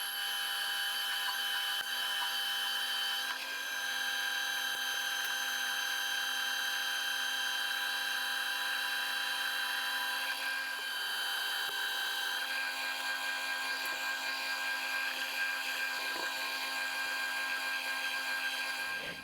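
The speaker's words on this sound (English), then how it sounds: "hold it in the 3-jaw and just narrow this nut up a fair bit" A metal lathe turns a nut held in a 3-jaw chuck, narrowing its face with a cut: a sustained, steady whine with strong ringing tones and slight shifts in pitch, loud and close throughout, no voices.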